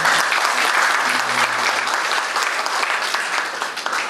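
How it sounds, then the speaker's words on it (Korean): Sustained applause from guests at a joint wedding ceremony, a loud dense patter of many hands clapping at once, steady throughout with a faint low hum underneath. "박수 한번 주시고요"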